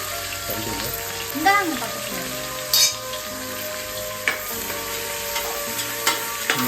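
Ginger and garlic sizzling in a hot pan, with a steady frying hiss and occasional stirring scrapes and clinks, a few louder knocks against the pan, and faint voices in the background.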